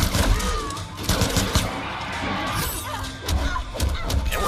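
Machine gun fire in Mortal Kombat X during a tournament match, a dense stream of rapid shots mixed with impact thuds and crashes, continuous and loud throughout.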